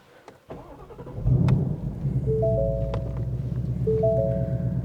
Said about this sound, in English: push button start